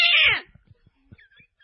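A person imitates a cat with a loud, drawn-out meow-like cry that fades after about half a second, followed by faint scattered low thumps and small sounds.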